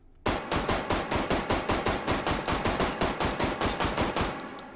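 A firearm fires in semi-automatic, pistol-style recoil testing: roughly twenty sharp, loud shots in quick, even succession, close by, with no talk over them.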